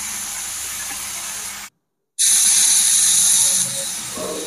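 Pumpkin and raw green banana tipped into a hot pan for a Bengali vegetable jhol, giving a loud steady sizzle that cuts out briefly, then bursts back louder and settles into continuous frying hiss.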